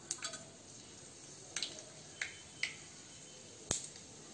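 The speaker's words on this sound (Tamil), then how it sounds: "கடுகு உளுந்தமருப்பு தாளிச்சிக்கலாம்." Mustard seeds and urad dal crackle in hot oil in a small pan, a quiet bed of frying with a handful of sharp, scattered pops spread irregularly across a few seconds.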